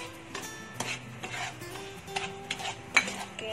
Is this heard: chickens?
no